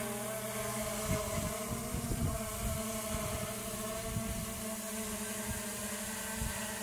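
A 3DR Solo drone hovering and spinning in the open, its rotors giving a steady tonal buzz with gusty wind buffeting the microphone throughout.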